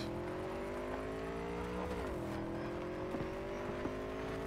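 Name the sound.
motorcycle engine in a video game (Cyberpunk)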